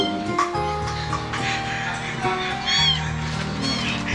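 A newly adopted cat meows repeatedly indoors, several rising high meows close by over a steady hum, while people talk nearby.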